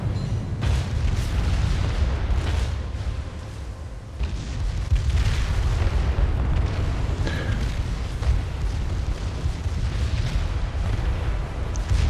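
Secondary guns on the Mikasa, a Japanese tier 2 battleship in a naval video game, fire in repeated booming volleys over a dense, continuous rumble of battle.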